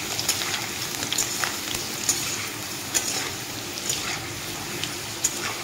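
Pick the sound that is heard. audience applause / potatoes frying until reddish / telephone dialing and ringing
potatoes frying until reddish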